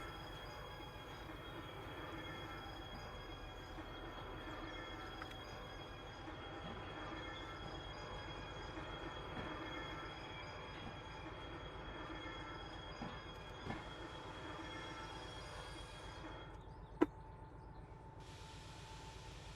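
A train hauled by an S282 locomotive in the Derail Valley game rolls along steadily with a continuous low rumble, rattling wheels and faint squeals, and a few isolated clanks toward the end.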